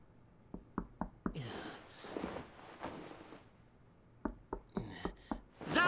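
Sharp knocks on a door come in two bursts of three or four raps, separated by a stretch of rustling noise, moderately close and fairly quiet.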